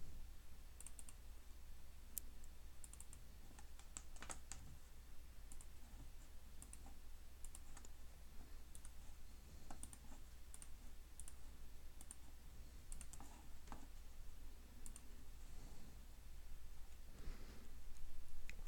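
Soft rapid taps of typing text on an iPhone on-screen keyboard, faint irregular clicks over a steady low hum, with no voices.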